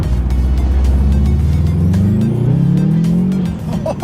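Subaru accelerating hard in Sport Sharp SI Drive mode, a loud close engine roar rising steadily in pitch for about three seconds before dropping off near the end.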